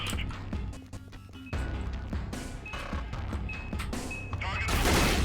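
Gunfire from weapons in the video game Dead Effect 2, loud repeated shots and bursts crackling throughout, building into a dense blast at the end, with a player's voice talking over the shooting.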